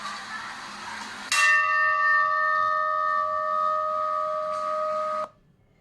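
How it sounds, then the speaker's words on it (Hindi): A temple bell struck once at home, a bright metallic clang that rings on with a steady, sustained hum for about four seconds before cutting off, close and clear with no talking. "एक घंटे का नाद, उसकी आवाज़ सुनाई पड़ी ना?"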